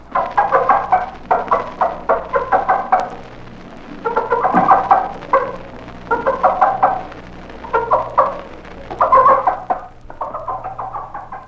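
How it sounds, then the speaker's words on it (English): A mother hen gives excited food calls to her chicks, a run of short repeated clucking bursts in rhythmic clusters with brief pauses, fairly close and steady, over a low background hum. "she scratches and pecks at the food and calls her chicks with excited food calls"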